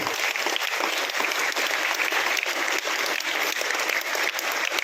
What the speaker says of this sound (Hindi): प्राइमरी के टीचर्स के लिए तालियां बजाई जाए।